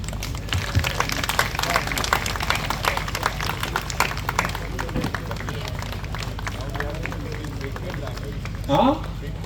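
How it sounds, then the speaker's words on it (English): A convention crowd at the Goa AA Convention 2025 gives a round of applause for the release of the Konkani Big Book translation: dense, sustained clapping fills the whole stretch with a crowd murmur under it. "A huge round of applause."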